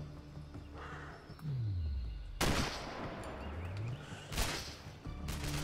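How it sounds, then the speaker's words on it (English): Gunfire in the sniper video game Sniper: Ghost Warrior, with loud bursts of shots breaking in abruptly among rumbling game effects and descending whooshes, several sharp blasts spaced a second or two apart. "Who is shooting at me?"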